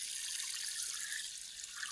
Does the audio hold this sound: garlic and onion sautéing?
no